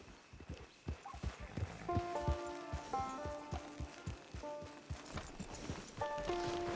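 Horse hooves clip-clop at a steady walking pace in the video game Red Dead Redemption 2, fairly close, with a whinny and musical tones mixed in and a few spoken lines.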